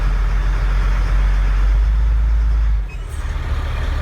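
A truck engine idles loudly and steadily while the vehicle coasts in gear and rolls back during a brake test, then the rumble drops abruptly near the end, leaving a lighter, uneven mechanical sound.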